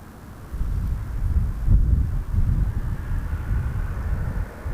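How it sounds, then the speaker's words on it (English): A Korean Air Boeing 777-300ER departing Toronto Pearson for Seoul makes a deep, distant jet rumble that swells and pulses with wind buffeting the microphone, steady and low throughout with no voices. "Once again, Korean Air, flight 74, 777-300 ER headed back to Seoul."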